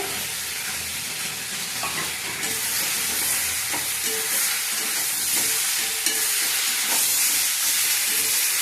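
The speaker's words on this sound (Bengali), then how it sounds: "এবারে মশলা বাটাটা দিয়ে দিচ্ছি, মশলা দিয়ে কষে নেবো।" Ground spice paste frying for shukto in a pan, a steady dense sizzle and hiss with occasional faint stirring scrapes, close and continuous with no talking.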